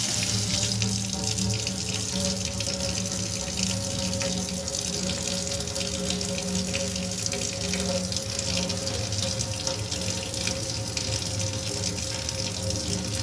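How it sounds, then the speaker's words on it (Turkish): Tap water runs steadily and close by as a photographic film from a self-developing instant film pack is washed under it, a continuous gushing flow with faint pump-like hum and no speech. "suyun altında yıkıyorum."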